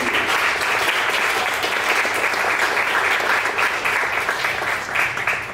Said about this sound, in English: Let's give one final round of applause.